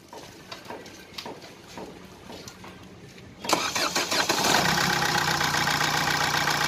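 A Ford Figo diesel engine is cranked over with several starter pulses and knocks, then catches and runs at a loud, rough, steady idle close by in a workshop.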